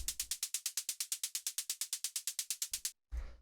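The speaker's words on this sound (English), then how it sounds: "The next thing we have here is this operator hi-hat" A steady run of crisp, bright hi-hat ticks built from white noise on an Ableton Operator synth repeats evenly for about three seconds, stops briefly, then a single longer noisy hit follows.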